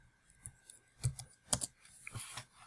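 Quiet, scattered keystrokes on a computer keyboard, a handful of soft clicks in an uneven rhythm.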